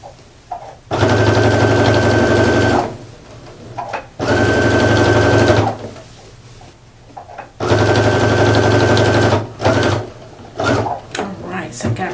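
A sewing machine stitches binding onto a quilt in three long, loud bursts of steady motor whir with needle clatter, separated by pauses filled with soft handling noises.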